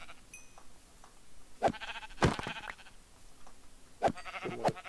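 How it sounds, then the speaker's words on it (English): Sheep in the Minecraft video game give several bleats, loud and close, spaced a couple of seconds apart over quiet game ambience. "here's the other sheep"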